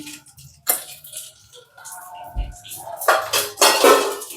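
Ridge gourd is tipped into a pan and mixed, giving loud clattering and scraping of a utensil against metal in busy bursts, close and increasingly vigorous toward the end.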